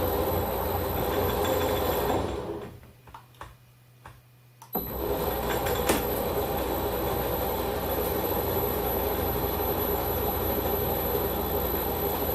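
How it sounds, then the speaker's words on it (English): A metal lathe runs steadily with a continuous mechanical whir and hum, briefly dropping quieter for a couple of seconds before spinning back up to full, near and alone. "That means I can run the lathe the correct way."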